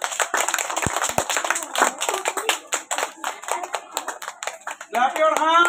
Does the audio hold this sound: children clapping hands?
yes